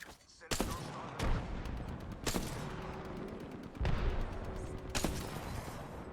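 Burst-fire and scattered shots with a few heavier booms, a frag grenade among them, from a firefight in Apex Legends, coming in separate loud bursts with brief gaps.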